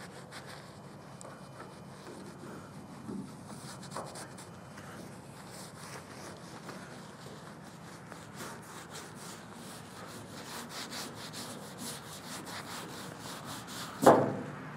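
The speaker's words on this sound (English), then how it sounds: "we're gonna go ahead and start buffing off the patina sauce" Patina sauce is buffed by hand off the rusty body of a 1967 Chevrolet C10 truck, a faint, steady rubbing and scrubbing that ends in a sharp brief knock.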